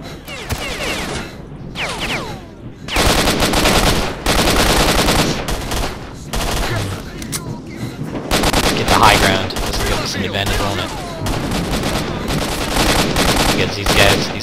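Rapid automatic gunfire rattles almost continuously in STALKER, loud overlapping bursts from several weapons with only brief pauses, and a voice speaks briefly between volleys.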